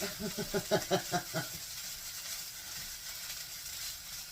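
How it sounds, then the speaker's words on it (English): Hashbrowns frying in a skillet, a steady faint sizzle and hiss, with a few rhythmic scraping or tapping sounds at the start before settling into continuous crackling. "so I'm going to let this fry and those to get crispy a little bit"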